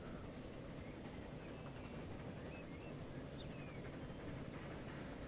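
A train in Transport Fever 2 rolls along rails in a steady, low, continuous rumble, faint and even throughout, with occasional light squeals or bird-like chirps above it.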